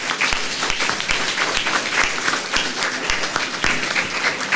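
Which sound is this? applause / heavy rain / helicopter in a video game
applause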